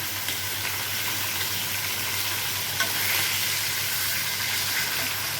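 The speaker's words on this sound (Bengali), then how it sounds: "সব মাথাগুলোকে এক এক করে সুন্দর করে ভেজে নিই" Steady oil sizzle of rohu fish heads frying in a pan, continuous and fairly close, with a brief clink midway and no voices.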